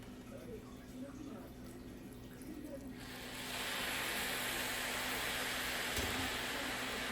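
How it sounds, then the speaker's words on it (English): Water poured into a covered pot of cooking jasmine rice: quiet bubbling at first, then a sudden loud, steady hissing rush as the water hits the hot pot, continuing evenly to the end. "I'm going to throw a little bit more water in it"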